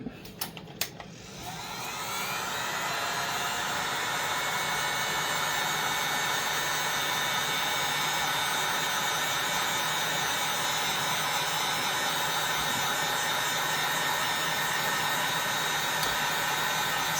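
A heat tool blows hot air steadily onto a clay or silicone-like Littlest Pet Shop figure being turned into a Labubu, a loud continuous whoosh that starts after a brief click and holds for the rest of the time with no talking.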